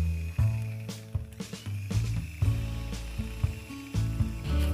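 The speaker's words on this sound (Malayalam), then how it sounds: "ശേഷം ഒന്നും കൂടി ബീറ്റ് ചെയ്ത് കൊടുക്കുക." An electric mixer beats cake batter with sunflower oil and powdered sugar in a bowl for an oven-free black forest cake, its motor droning close with an uneven pitch and rattling as the beaters churn, and no voices.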